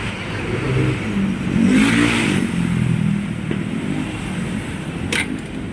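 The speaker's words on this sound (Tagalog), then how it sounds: "Ayan mga boss, ang tunog ng motor ni sir." Motorcycle engine rumbling steadily, swelling into a louder rev midway, then settling back to idle, with a sharp click near the end.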